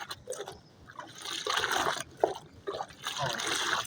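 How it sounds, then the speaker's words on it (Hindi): Calcium powder for pigeons is stirred into water, giving repeated swishing, sloshing liquid sounds in uneven bursts, moderately loud and close, with no speech. "अब इसको अच्छी तरह मिक्स कर लेंगे, पानी का कलर एक जैसा हो जाएगा"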